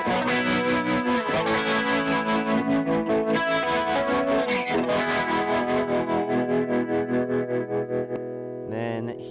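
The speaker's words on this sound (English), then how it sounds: "This is clean tone. Here's a little chorus and tremolo." Electric guitar played through a Synesthesia pedal, with sustained chords and notes ringing loudly and a shimmering chorus and tremolo wash over them, then a short break near the end.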